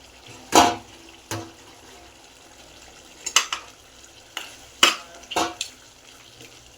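Spoon scraping and clanking against a pan of mutton curry with fresh coriander, a few sharp separate stirs and knocks over a low sizzle, close up with no talk.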